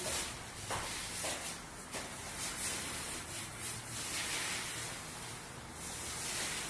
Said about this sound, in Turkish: Önce bir güzel büyük boyamızı yayıyoruz.